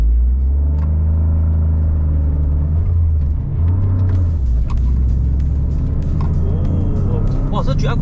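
Engine of a Toyota GR Corolla with all-wheel drive droning steadily and building as it accelerates on a test drive, loud and close from inside the cabin.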